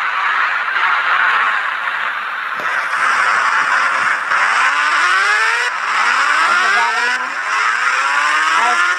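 A vehicle engine in an Indian bike video game revs loudly and steadily, its pitch climbing repeatedly as it accelerates through the gears, with a brief squeal and no talk.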